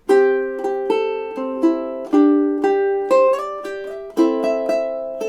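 A ukulele strums the opening measures of the first verse of a song, with a steady run of chord strokes played alone, each ringing out and decaying before the next one lands.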